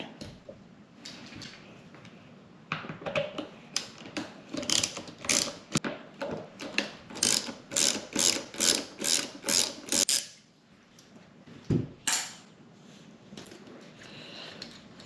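Screws are backed out of a Dodge Challenger steering wheel with a ratcheting tool, a run of quick clicking ratchet bursts and mechanical rattles, close and alone, pausing briefly near the end.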